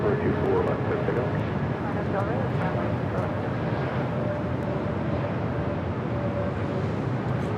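Alaska Airlines jet taking off at Los Angeles International Airport, a steady, loud broadband roar that holds throughout the stretch with little variation, radio-style talk faintly present underneath.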